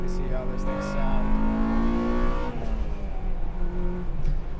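An Acura car engine revs hard under acceleration, a rising then falling throaty drone heard from nearby with a person talking over it.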